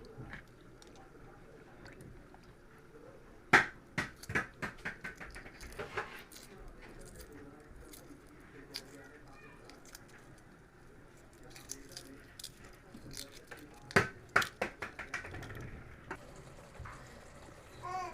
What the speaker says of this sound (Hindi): अब हम इसे अंडों को छील लेंगे।